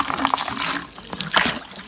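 Water is poured from a plastic container to mix lime wash. There is a short, close splashing and trickling that rises and falls over a couple of seconds, with a little background noise.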